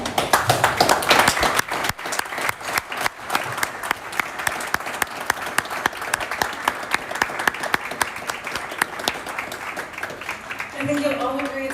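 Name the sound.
audience applause at unveiling of the Magdala Stone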